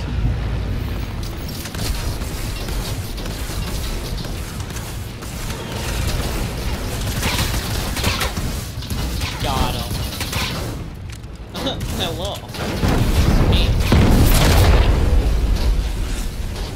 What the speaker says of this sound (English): We're still getting shot.